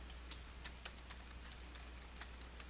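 Quiet typing on a computer keyboard while entering a memo in accounting software: a light, irregular run of clicky keystrokes, close and faint, with no voice.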